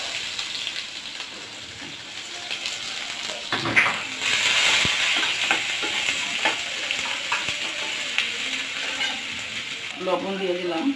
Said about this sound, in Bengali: বাকি যে তেলটা আছে সে তেলের ভিতরে আমি পেঁয়াজ দিয়ে দেব।